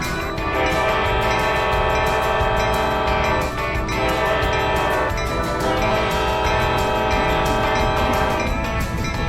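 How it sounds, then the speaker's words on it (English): A model railroad train pulls into a station on a layout, its horn sounding in long sustained blasts over steady rolling rail noise. "Heading west, the train arrives at Bristow."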